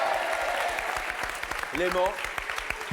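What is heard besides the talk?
studio audience applause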